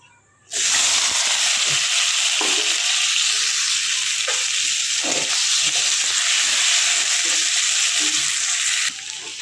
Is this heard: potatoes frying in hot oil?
yes